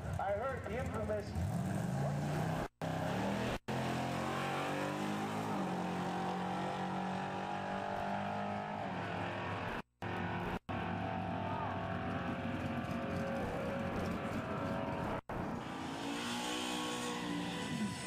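A Chevelle drag car launches from the left lane at a grudge race, its engine roaring loud and sustained as it pulls away, with brief cutouts and a commentator talking over the noise.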